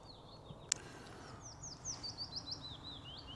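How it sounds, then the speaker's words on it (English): A willow warbler sings from a tree in a forest reserve, a faint, high descending run of sweet notes repeated after a sharp click, distant over quiet outdoor background. "There's a willow warbler in that tree behind me."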